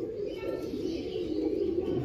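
Pigeons coo softly and steadily on a fancy pigeon farm in Ramanathapuram, a continuous low murmur of several birds close by.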